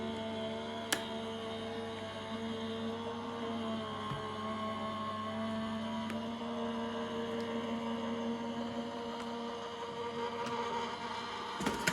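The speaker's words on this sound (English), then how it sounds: "Then I'm going to run these through our die cutting machine, so I'm using a Gemini." A Gemini die cutting machine runs through a card-making sandwich of base plate, plastic shim and cutting plate, producing a steady, even motor hum that holds at the same level from start to finish.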